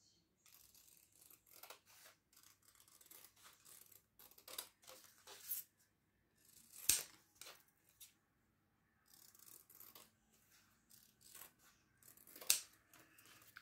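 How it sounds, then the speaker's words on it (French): Scissors snip through a paper colour chart cut from the back of a finished diamond painting, quiet close-up cuts and rustles in an irregular rhythm, with a few sharper crisp snips standing out. "je vais découper l'échelle de couleur"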